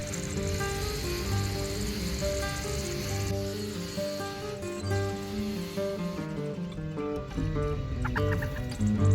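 A rufous-bellied thrush sings in a continuous, layered outdoor chorus, its phrases mixed with steady insect buzzing and other birds, fairly dense and moderately loud throughout.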